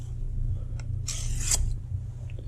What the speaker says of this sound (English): This thing sharpens all my knives.